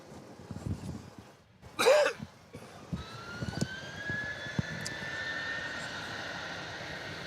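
Qantas airliner taking off from Melbourne Airport, bound for Brisbane, its engines building into a steady, rising whine after a brief burst of nearby noise, moderately loud and sustained.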